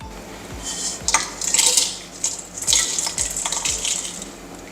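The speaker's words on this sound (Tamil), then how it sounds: "இப்போ அப்படியே நம்ம ஒரு ஜாரில் மாற்றிடலாம்" Hot roasted Dindigul biryani masala spices being tipped from a pan into a jar, with clattering metal pan and spoon knocks and dry scraping rustles, close and moderately loud, no talking.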